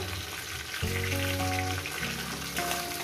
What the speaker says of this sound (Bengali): একটু উল্টি পাল্টি ভেজে নেব।